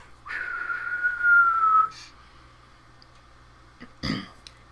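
A voice imitates a falling projectile with a sustained whistle gliding slightly downward, then a short pause and a breathy burst like an impact.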